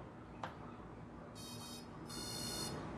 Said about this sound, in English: You heard the ba-da-ba-da.